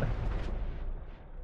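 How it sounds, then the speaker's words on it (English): A heavy explosive boom from the Noita video game fills the whole stretch, a loud rumbling blast at the start that slowly fades with crackling debris, with no talking. "What is this, like, explosion on explosion?"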